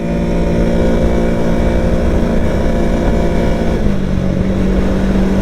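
A 2023 Can-Am Outlander 700 XT ATV engine revs hard at full throttle, loud and continuous, its droning pitch holding steady and then shifting lower partway through.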